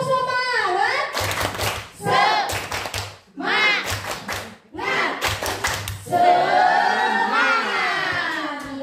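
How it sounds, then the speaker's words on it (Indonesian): Tepuk semangat, a group rhythmic clapping chant in an Indonesian learning session, with bursts of claps in patterned groups alternating with chanted voices, including children, close and lively. "Tepuk semangat."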